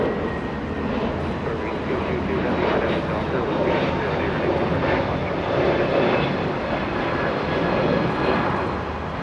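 A JetBlue jet airliner bound for New York at Los Angeles International Airport gives a loud, steady broadband engine roar that swells slightly and stays constant throughout, heard from a moderate distance with no voices over it.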